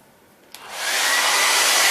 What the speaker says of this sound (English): we're going to take a hair dryer,